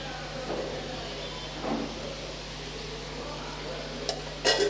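Grated coconut being stirred into a banana flower and drumstick leaf stir-fry, with soft scraping of a spatula against the pan over a low sizzle and a few brief metallic clinks near the end, close and quiet.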